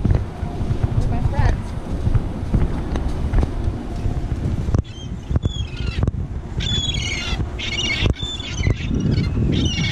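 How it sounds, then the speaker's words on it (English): Seagulls squawk in sharp, repeated calls over heavy wind noise on the Cedar Point boardwalk beside the water. The calls are sparse at first, then cluster loudly near the end, with a voice faintly in the background. "there's Mary making the population of the seagulls go crazy"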